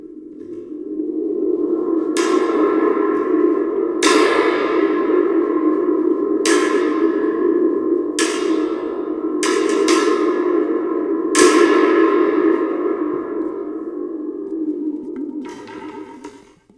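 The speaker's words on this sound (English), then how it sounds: "I'm trying to do a sound effect for a thunderstorm and lightning." A spring drum gives a series of sharp, twangy, echoing zaps, about six of them at irregular intervals, each trailing off in a long metallic ringing reverb.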